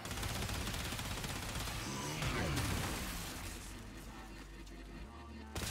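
Dense, continuous gunfire from the video game Warframe, a loud unbroken fusillade of rapid shots with crashing bursts, sustained for several seconds with no pause.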